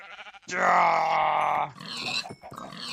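Pig grunts in the Minecraft mod pack Sky Factory: a loud, drawn-out synthetic grunt up close, followed by shorter animal noises, with light voice nearby.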